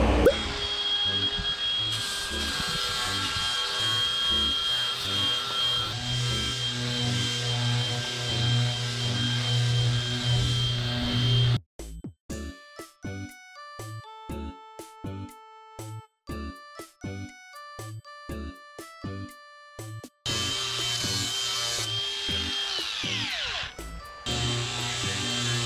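Wood being scraped down by hand on a homemade delivery box, a run of sharp, irregular scraping strokes in close succession, with a steady mechanical hum before and after.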